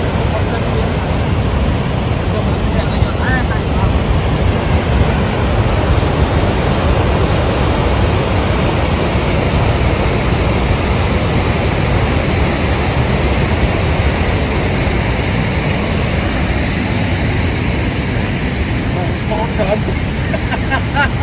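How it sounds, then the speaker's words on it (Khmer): Sakyamit waterfall in Stung Treng province roars with a constant, heavy rush of falling water, broad and unbroken throughout, with no other clear sounds standing out. "ទឹកជ្រោះសក្យមិត្ត"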